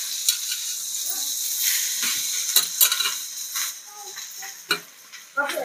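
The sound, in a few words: stirring chopped safflower greens (kardai) frying in a pan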